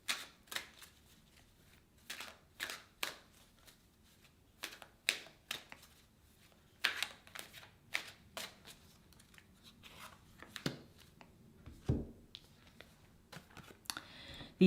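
Tarot cards being shuffled and handled in a quiet indoor setting, giving a series of crisp, papery riffles and soft slaps in irregular bursts, close and fairly faint, with no talking.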